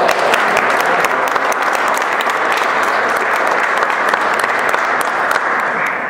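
A round of applause for sponsors at a new member reception, dense, loud, sustained clapping from a close crowd that holds evenly for several seconds before easing slightly at the end.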